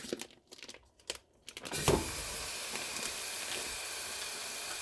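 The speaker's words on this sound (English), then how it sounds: "Now that my pot has warmed up, I'm gonna add my meat. So here goes the 1 pound of ground beef." A pound of ground beef dropped into a hot pot sets off a loud, steady sizzle that starts abruptly after a few soft handling sounds and holds constant to the end.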